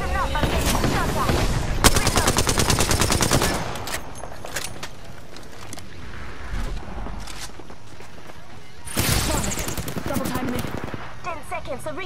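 Bursts of rapid video-game gunfire crackle in two dense stretches, with quieter footsteps and movement between them, in a battle-royale-style shooter match.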